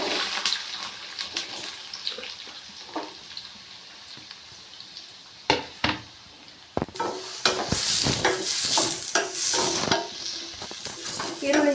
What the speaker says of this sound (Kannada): ಶುಂಠಿ ಬೆಳ್ಳುಳ್ಳಿ ಜಜ್ಜಿಟ್ಕೊಂಡಿದ್ದೀನಲ್ಲ ಅದನ್ನು ಹಾಕ್ಕೋತಾ ಇದ್ದೀನಿ ಈರುಳ್ಳಿ ಹಾಕೋತಾ ಇದ್ದೀನಿ